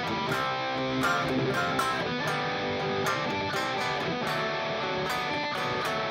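Guitar chords are strummed in a C form, with an added sixth and suspended notes, ringing out in a dense, continuous sequence of rhythmic strums, close and fairly loud, with no talk.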